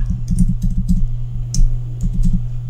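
Steady, close-miked typing on a computer keyboard while coding, with quick bursts of key clicks over a constant low hum.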